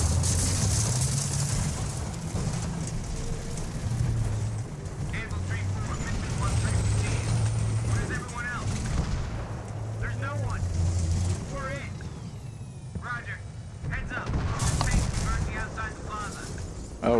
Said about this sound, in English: Right, we're taking a tank through a building